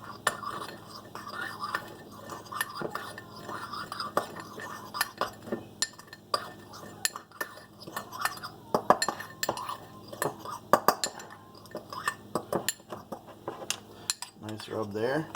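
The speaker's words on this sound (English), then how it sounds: "Gonna mix that all up. Make a nice rub." Dried oregano and thyme are stirred together into a rub, with close, busy clinking and scraping of a spoon against a bowl in rapid irregular strokes and faint whispering in the background.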